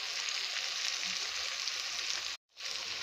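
Cumin powder and turmeric frying with browned onion in a hot pan give a steady, close, loud sizzle that drops out briefly near the end and then resumes.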